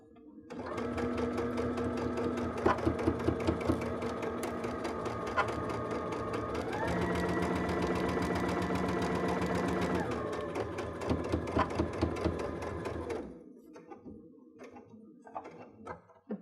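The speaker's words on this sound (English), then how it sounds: "I'm going to take one more stitch." A sewing machine stitches a summer picnic dress in long, steady runs of rapid mechanical whirring with fine ticking, its pitch shifting midway, then it stops and a few soft clicks and handling sounds follow.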